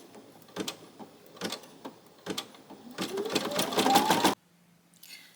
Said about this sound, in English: Just going to let it stitch a little bit more.